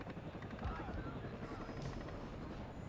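A steady helicopter rotor drone in the video game WARNO thrums throughout, dense and low, with a faint voice murmuring underneath.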